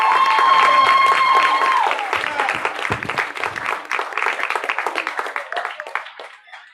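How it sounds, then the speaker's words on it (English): An audience at a live music show bursts into applause, loud dense clapping that starts with a sustained held tone underneath, then thins into scattered claps and fades toward the end. "Give a big round of applause to Gwen."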